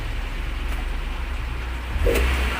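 A petrol car fitted with a large aftermarket exhaust idles with a low, even rumble that pulses steadily, followed by a brief louder throb and a knock near the end.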